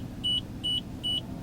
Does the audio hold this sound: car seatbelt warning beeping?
yes